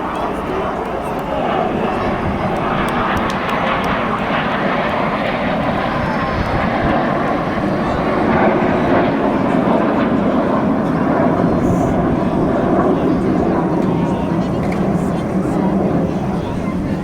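Red Arrows display jets fly past at the National Wales Airshow, Reds 4 and 5 trailing smoke as they roll, a loud sustained roaring jet noise swelling and fading under an announcer's commentary.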